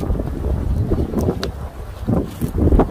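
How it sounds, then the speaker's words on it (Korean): Strong winter wind gusts across a cold-weather campsite, buffeting the microphone in a continuous loud roar with rising and falling surges. "바람이 너무 부는데?"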